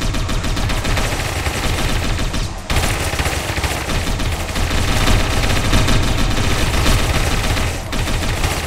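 Loud, unbroken gunfire in Satellite Reign, shot from defensive base walls: dense overlapping volleys and rapid automatic bursts pound without pause, with a brief dip partway through before the barrage resumes just as heavily.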